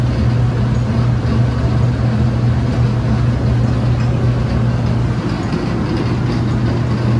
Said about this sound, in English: Motor runs, but this is a small batch.